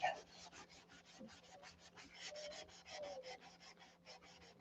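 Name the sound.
hand sanding wood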